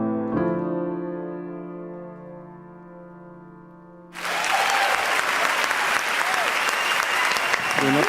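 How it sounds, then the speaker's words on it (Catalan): A lingering sustained chord rings out and fades, then a loud burst of live audience applause erupts and continues steadily to the end after a ghost-themed song performance in a small studio. "Un aplaudiment"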